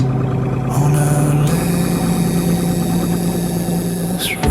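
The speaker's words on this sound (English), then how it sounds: "The last 100 meters before my yard, the engine goes soft, losing power, stumbling." A Volvo F87 truck's engine running close by at a steady, loud drone with a low rumble and a faint whine layered on top, losing power and stumbling near the end of its last run.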